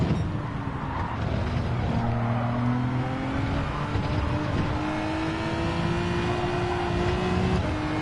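A race car engine in a racing game revs steadily throughout, rising and falling pitch lines of engine whine with some tire squeal, loud and continuous with no talk.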